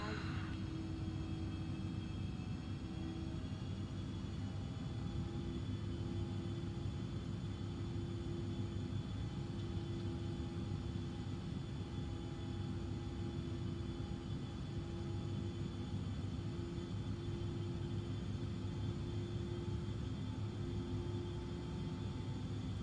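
Embraer E145XR jet in flight in the X-Plane simulator: a steady, even cabin drone of engine and airflow with a constant tonal whine, unchanging in level throughout.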